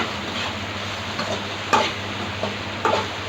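Okra pieces being fried for a Nellore-style lady finger fry are stirred in a pan, with a soft steady sizzle broken by a few sharp scraping clicks of the spatula, close up and without talk.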